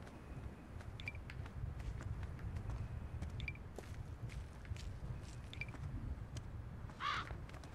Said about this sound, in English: Oh, a bird.